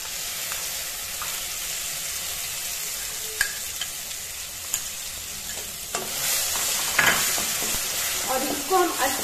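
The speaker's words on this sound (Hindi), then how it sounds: "और इसको हम अच्छे तरीके से सरसों तेल में भून लेंगे।" Masala paste frying in mustard oil for a traditional Mithila dish, a steady close sizzle with scraping stirs that grow busier and louder toward the end.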